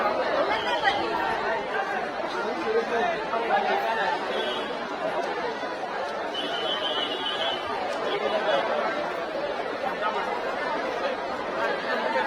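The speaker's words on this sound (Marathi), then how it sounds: "गर्दी वाढली इकडे" A dense crowd of devotees at Lalbaug chatters steadily all around, a constant close hubbub of many overlapping voices with no single voice standing out.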